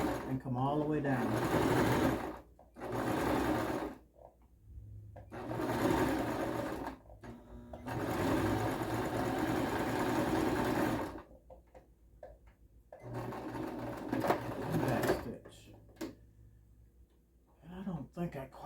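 A sewing machine stitches and back stitches on a fabric face cover in several short bursts of whirring with pauses between, while a person talks intermittently over and between the runs.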